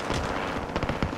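Rapid bursts of automatic gunfire in Call of Duty Warzone, a quick sequence of sharp shots from a Swiss rifle and PPSh combo, moderately loud over game ambience.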